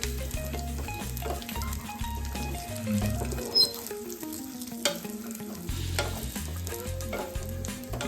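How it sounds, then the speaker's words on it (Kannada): Pumpkin seeds, sunflower seeds, raisins and dry fruits roasting in a pan for laddu, a continuous close sizzle and rustle of stirring, with tuneful background music playing steadily underneath. "ಒಂದು ಸ್ವಲ್ಪ ಬ್ರೌನ್ ಆಗೋವರೆಗೂ ಹುರ್ಕೋಬೇಕು"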